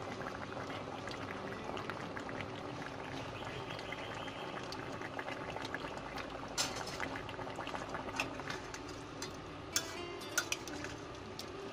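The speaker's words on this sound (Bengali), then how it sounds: "তবে ঢেকে মাছ যতক্ষণ না সিদ্ধ হচ্ছে, পুরোপুরি হয়ে যাচ্ছে, এভাবে রান্না করব।" Hilsa fish curry with potato and brinjal simmering covered in a pot: a steady low bubbling boil with soft liquid gurgles and occasional sharper pops, with no talk.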